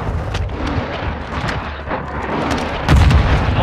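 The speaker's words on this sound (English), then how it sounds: "Hostiles launched a cruise missile." A cruise missile launch in Call of Duty: Modern Warfare 2 comes through as a dense, rumbling roar of booming fire and crackle, swelling louder near the end, heavy and close with no voices on top.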